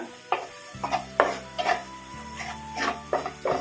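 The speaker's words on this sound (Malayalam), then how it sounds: "ഇനി ഇതൊക്കെ ചേർത്ത് നന്നായിട്ടൊന്ന് വഴറ്റിയെടുക്കുക" Onion masala being sautéed in a pan while a utensil scrapes and clinks against the metal in irregular strokes, with a soft sizzle and a steady low hum beneath, no voices.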